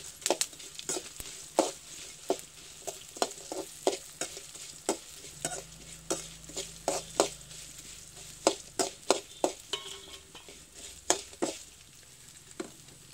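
Coriander seeds, chillies and fenugreek roasting in a pan for sambar make a quiet, steady crackle while a spoon stirs with repeated scraping taps, and no one speaks.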